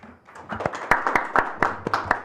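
Applause from a panel-forum audience welcoming an accounting firm executive to speak, scattered distinct hand claps building into a modest, fairly close round of clapping.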